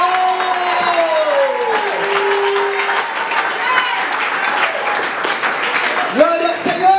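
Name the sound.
church congregation applauding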